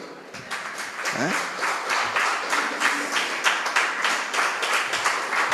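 Church congregation clapping in a steady broadband patter with a brief whistle-like rising sweep near the start, sustained and fairly close throughout.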